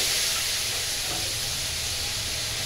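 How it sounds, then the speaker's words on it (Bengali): Prawns frying in hot oil give a steady, bright sizzling hiss that holds at an even level throughout, with no talking over it. "দেখো এগুলো আমি দেবো এখন। তেলে ভেজে নেবো আগে একবারে।"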